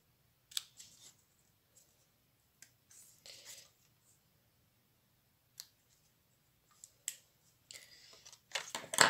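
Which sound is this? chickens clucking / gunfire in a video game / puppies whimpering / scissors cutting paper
scissors cutting paper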